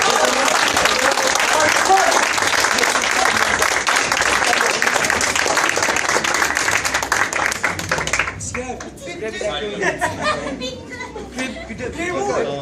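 Theatre audience applauding loudly in a dense, sustained roar of clapping with chatter and laughter mixed in, tapering off near the end as voices take over.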